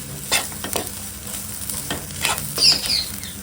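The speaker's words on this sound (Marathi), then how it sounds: "कांदा खोबरा आणि आला लसूण आता व्यवस्थित भाजून घेऊया" Onion, coconut, ginger and garlic roasting in a pan, with a steady close sizzle and a few stirring scrapes and no talk.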